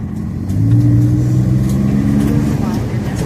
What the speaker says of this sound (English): you can hear the rocks getting kicked up